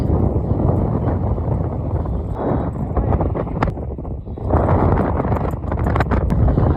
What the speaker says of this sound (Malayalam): ഓ എന്താ കാറ്റ്, കറപ്പിച്ചിട്ട് പോകുന്ന കാറ്റ്.